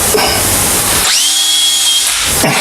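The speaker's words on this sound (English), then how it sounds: "Taking our cordless drill, and we're just putting centers in these right quick." A cordless drill drills center holes in waste Delrin stock, spinning up with a steady high whine for about a second, then winding down, surrounded by broadband workshop noise.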